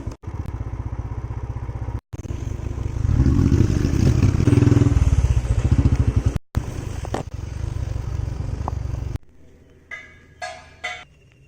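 A motorcycle rides along with a steady, loud engine drone and rattling clatter over a bridge on Kadamakudy Island, rising to a rougher peak midway, breaking off briefly twice, then dropping away to quiet with faint passing sounds.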